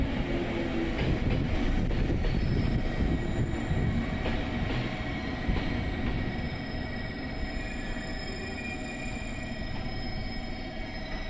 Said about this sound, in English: The Sonic 4 arrives at Kakura Station.